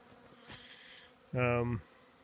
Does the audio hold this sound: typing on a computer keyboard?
no